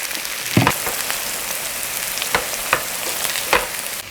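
Kimchi pancake batter fries in plenty of oil, a continuous sizzle with sharp crackling pops scattered through it, close and fairly loud.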